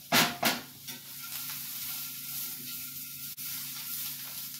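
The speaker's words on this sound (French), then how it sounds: "je vais passer mes patates et mes carottes d'hier. Je vais tout repasser ça dans la poêlonne" Leftover potatoes and carrots are reheated in a cast-iron pan, with a couple of loud clatters at first and then a steady sizzle and hiss that carries on without any talking.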